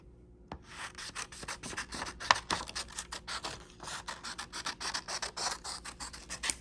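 Scissors snipping through paper to shape a hill for a weaving project, heard close up as a rapid series of crisp, rhythmic cuts with no talking.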